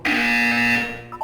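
A loud, steady electronic buzzer from the video game Portal 2 sounds once, a harmonic drone holding for about a second before cutting off.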